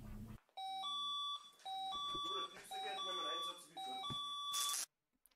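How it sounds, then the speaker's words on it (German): Electronic fire brigade alerting tone from a volunteer fire department pager, a series of stepped two-pitch beeping bursts repeated four times, loud and close, with faint background sound beneath. "Ganz chilliger Alarmierungssound."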